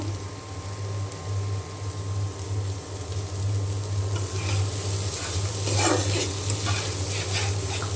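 Bitter gourd bhaji frying in a pan with a steady hissing sizzle that swells toward the end, over a low constant hum, close and continuous.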